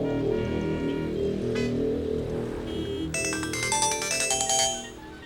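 A phone rings back after a call is placed, its electronic ringtone playing as repeated tonal bursts that grow brighter and busier midway, loud and alone with no talking.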